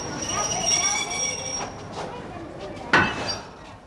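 A train on a Norfolk branch line in 1969 rumbles past with squealing wheels and a sharp clank near the end, loud and close, with faint voices underneath.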